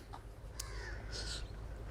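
A crow caws a few times at moderate distance outdoors in a township in Iskandar Puteri, Johor, with harsh repeated calls over steady background ambience.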